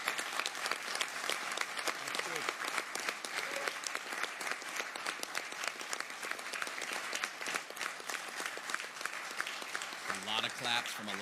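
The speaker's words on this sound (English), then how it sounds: "Claps from a lot of bankers in that room right there." Sustained applause from a roomful of bankers at a U.S. Treasury announcement about a Bitcoin reserve, dense steady clapping throughout with voices murmuring underneath and a speaking voice rising near the end.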